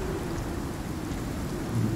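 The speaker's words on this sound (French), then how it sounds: "Elle démarre juste là, la tempête." A storm rolls in during the survival game Icarus, steady rain hissing over a continuous low rumble of thunder that swells slightly toward the end, fairly loud and without voices.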